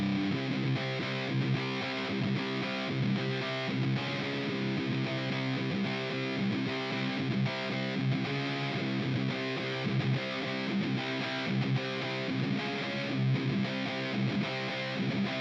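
A mangled sample played through an Elektron Digitakt plays with heavy distortion, a thick, gritty and sustained tonal texture with a steady, loud pulsing rhythm and no voices.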